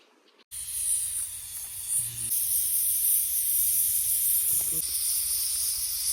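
A pressure cooker boiling dal vents steam in a strong, continuous hiss that starts abruptly and holds steady for several seconds, with faint brief sounds underneath.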